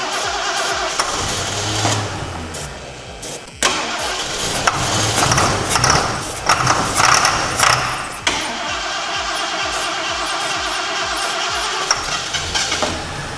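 A Ford Thunderbird with a freshly installed fuel pump cranks, catches and fires up, revving unevenly a few times before settling into a steady, loud idle nearby.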